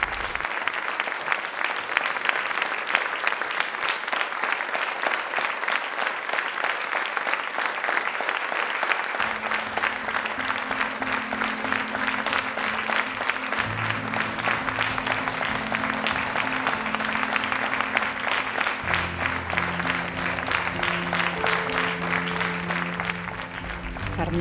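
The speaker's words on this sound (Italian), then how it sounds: "negli applausi molto forti rispetto alle poche mani presenti in sala" A small, masked, socially distanced theatre audience applauds, one steady stretch of clapping that sounds bigger than the few hands present, continuous and dense throughout with a low sustained tone entering partway.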